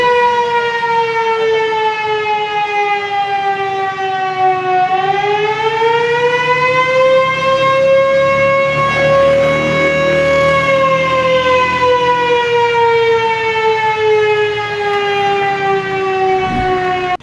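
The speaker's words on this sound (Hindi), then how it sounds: "चकवाल में इस वक्त इमरजेंसी सायरन बजना शुरू हो चुके हैं।" Civil defense emergency sirens wail continuously in Chakwal, Pakistan, during drone strikes, a loud steady tone that dips and rises again in pitch, with no one talking over it.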